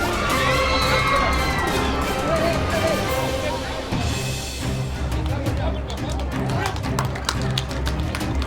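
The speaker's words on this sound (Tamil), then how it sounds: "கைத்தட்டி உற்சாகப்படுத்துங்க" At a Pongal celebration prize announcement at Mother Teresa educational institutions, a large crowd cheers and shouts with scattered clapping. The lively, continuous roar carries on under an announcer's voice.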